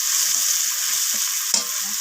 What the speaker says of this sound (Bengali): তো পেঁয়াজটাকে আমি এখানে লালচে করে ভেজে নিয়েছি